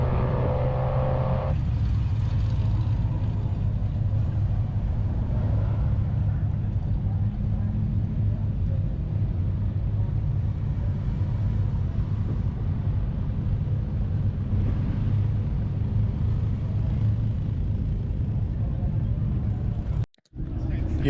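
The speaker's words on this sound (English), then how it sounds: "It was really cool to see that little car out on the track doing some laps." A small car's engine drones continuously while lapping a race track, with steady road and wind noise. The sound rises and falls slightly as it keeps going, captured from nearby.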